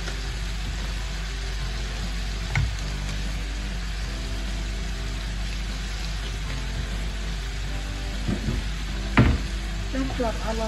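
Black pepper and paprika are stirred in a frying pan for shakshuka, giving a constant soft sizzle over a low hum, broken by a couple of sharp utensil knocks against the pan.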